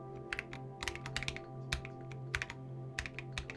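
Someone types shortcut keys on a computer keyboard while editing in DaVinci Resolve. Bursts of close, crisp key clicks come in irregular clusters over a steady low electrical hum.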